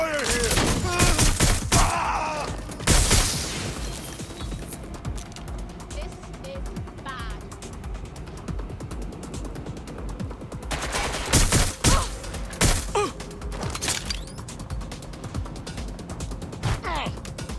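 Bursts of gunfire from the video game Watch Dogs: Legion, with a loud volley early and heavier clustered shots later, scattered impacts and mechanical clatter between them.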